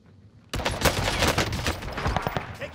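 Gunfire in Call of Duty: Warzone on Rebirth Island, bursting in suddenly after a quiet start and continuing as a dense, loud volley of overlapping shots with no pauses.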